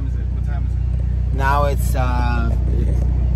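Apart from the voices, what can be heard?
car driving on the road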